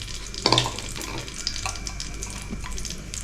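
Ghee fries with raisins and almonds in a pan for payasa, giving a soft, steady sizzle with one clatter and a few light stirring sounds, heard close without talking.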